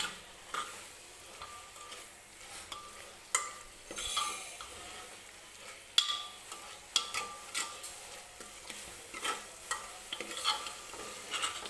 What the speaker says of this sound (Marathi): मीडियम गॅसवरतीच 1-2-3 मिनिटासाठी हा हरभरा जो आहे तो मसाल्यासोबत परतून घेऊया.